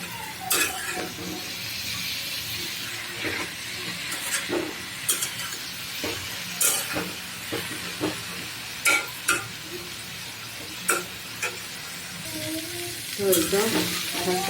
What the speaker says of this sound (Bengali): আর একটু টানবে, ভাজা ভাজা করবো